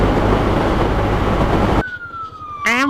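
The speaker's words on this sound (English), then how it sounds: "Ambulance!" Loud broadband roar cuts off abruptly, followed by a faint steady tone and then a brief rising wail of a siren near the end.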